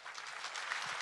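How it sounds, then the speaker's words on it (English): Delegates at the International Snowmobile Congress give a round of applause to first-time attendees, heard as a short, faint, even wash of many hands clapping at a distance. "Remain standing, give them a round of applause."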